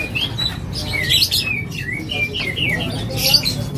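Birds chirp and tweet in quick, overlapping calls, fairly close, over a steady background hum.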